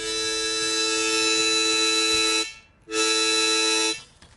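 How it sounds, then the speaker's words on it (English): Two blues harmonica notes from holes 1 and 2 sound together as a steady, loud sustained chord, held for over two seconds, briefly broken, then blown again for about a second. "you get the two notes together"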